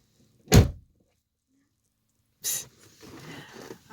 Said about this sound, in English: Don't shut the door too hard.